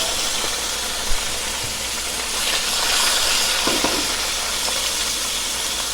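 Chicken liver (kaleji) dropped into a hot pan for kaleji masala, giving a steady hissing sizzle with a faint crackle and a brief bump near the start, close and continuous throughout.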